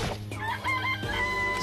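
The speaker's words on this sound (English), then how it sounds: "This place even has chickens, huh?" Chickens clucking in the video game Danganronpa: a short run of close, warbling clucks over a steady low background hum.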